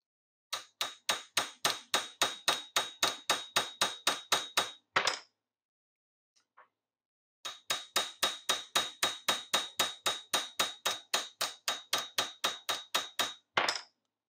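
A hammer tapping the pivot pin of a custom slipjoint pocketknife to tighten the blade, two long runs of even, ringing metallic taps, close and crisp, separated by a short pause.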